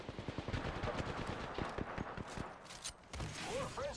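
Rapid video game gunfire crackles in quick bursts of close shots, with dense rattling volleys and a brief lull near the end, while a player talks over the action.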